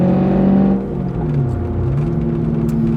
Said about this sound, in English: I'm still loving the way that this car sounds. I think this exhaust is just the perfect setup for this car.